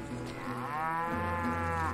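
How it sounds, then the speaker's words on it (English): Livestock in Call of Juarez Gunslinger moos in one long, clear, fairly loud bellow that rises and then holds to the end, heard alone without speech. "look at all these cows"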